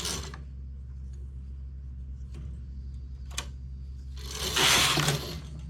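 A knitting machine carriage at work on a knitted cap, a few faint mechanical clicks followed by a brief loud sliding rush as the carriage sweeps across the needle bed, close by.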